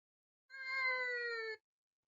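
One drawn-out cat meow used as a sound effect in a narrated story, clean and tonal, lasting about a second against silence.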